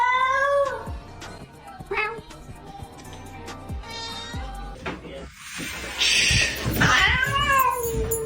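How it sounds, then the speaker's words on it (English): A kitten meows repeatedly in short, rising and falling cries, close and fairly loud, with a louder drawn-out wail near the end; a person talks softly between the meows. "Let me hear a meow."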